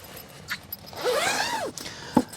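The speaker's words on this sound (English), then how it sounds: "the other side of this unit has a zipper" A zipper on the shower unit of a camper trailer is drawn in one long rasping pull lasting about a second, close up, with a few small clicks and rustles around it.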